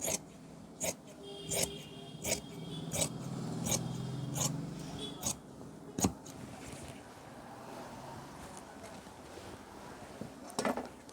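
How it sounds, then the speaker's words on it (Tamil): Scissors cutting pant fabric at a tailoring table for a high-hip pant, with a series of faint, crisp snips spread across the clip over a quiet room background. "இப்போ பேக்கை கட் பண்ணிட்டோம்."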